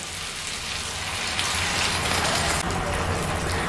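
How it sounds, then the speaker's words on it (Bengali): Water poured into a pan of frying potato and pointed gourd curry with chhana, a loud, dense sizzling crackle that swells partway through and continues steadily. "এখন এর মধ্যে দিয়ে দিচ্ছি পরিমাণ মতন জল।"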